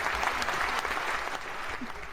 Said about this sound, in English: Got to give Randall some applause on that one